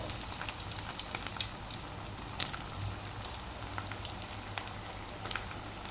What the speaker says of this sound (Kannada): ಇವಾಗ ಇದನ್ನು ಫ್ರೈ ಮಾಡ್ತೇನೆ ಎಣ್ಣೆ ಕೂಡ ಬಿಸಿ ಆಯಿತು ನೋಡೋಣ ಒಂದೊಂದನೇ ಎಣ್ಣೆಗೆ ಹಾಕ್ತೇನೆ